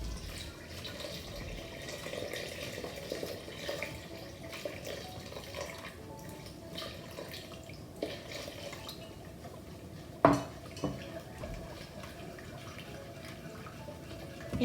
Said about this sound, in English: and we keep on stirring.